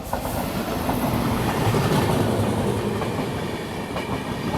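The Purvottar Sampark Kranti Express overtaking a halted train, a loud continuous rumble with rhythmic clickety-clack of wheels passing close by, alone without talk.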